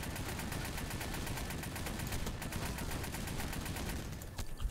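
Machine gun fire in a Vietnam-era convoy ambush video game scene: a dense, steady rattle of rapid automatic bursts running loud and continuous throughout, with no voices over it.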